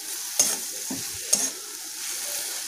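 Masala with whole green chillies is being stir-fried in a pan, giving a steady close sizzle. Two sharper scraping strokes of a spatula cut through it, and no one speaks.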